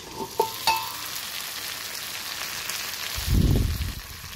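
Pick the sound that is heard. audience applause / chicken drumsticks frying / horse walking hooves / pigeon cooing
chicken drumsticks frying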